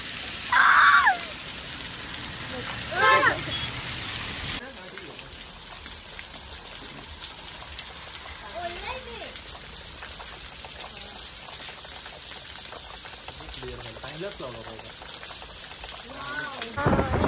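Steady rain falling outdoors in a monsoon downpour, a continuous close hiss throughout, with a few louder bursts near the start and people talking faintly underneath.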